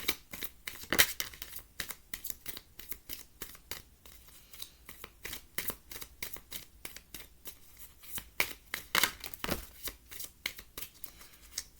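Tarot cards are shuffled and drawn in a rapid, crisp run of papery riffles and flicks, close and fairly quiet, with no voices.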